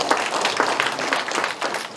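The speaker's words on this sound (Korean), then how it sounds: "큰 박수로 환영해 주시면 감사하겠습니다" Audience applause welcoming a speaker at an elder human rights protection seminar, steady crowd clapping with a few distinct louder claps standing out from the wash.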